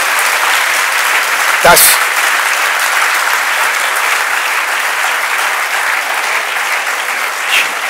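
Audience applause fills a Vienna city-talk event on Islam and the West, with steady, loud clapping throughout and a brief spoken word partway through.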